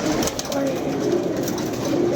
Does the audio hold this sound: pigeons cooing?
yes